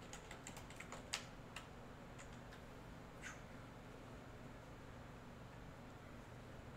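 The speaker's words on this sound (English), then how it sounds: "Type it over here on my other computer here." Faint computer keyboard typing on a second computer, a short burst of soft keystrokes followed by a couple of isolated taps over a steady background hum.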